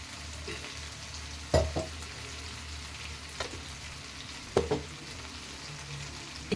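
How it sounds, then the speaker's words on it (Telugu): Spices for a chicken gongura pickle temper in hot oil, a soft steady sizzle with a few sharper pops and stirring clatters, fairly quiet and close. "పోపు వేసుకున్నానండి"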